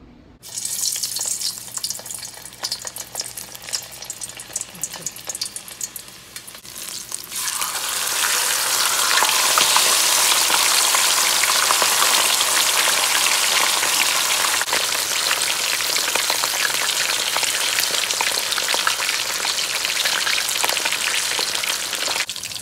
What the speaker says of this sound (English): Then we're gonna be frying the fish.